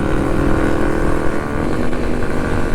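A Kawasaki KLX dual sport motorcycle's engine drones steadily during a street ride in mild spring weather, a loud close buzzing hum with slight wavering in pitch and no speech.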